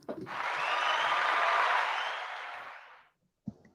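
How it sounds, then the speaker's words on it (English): A smooth burst of clapping swells for about three seconds, then cuts off, followed by a single soft knock. "I don't even think I needed to clap for that."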